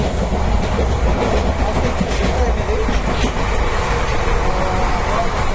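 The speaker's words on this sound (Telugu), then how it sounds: "విశాఖపట్నంలో స్పెషల్ ట్రైన్ ఇది ఆస్తా స్పెషల్ ట్రైన్" Aastha special passenger train running at Visakhapatnam, a loud, steady broadband rumble of a train in motion with continuous rail noise and faint clickety-clack, heard close and unbroken throughout.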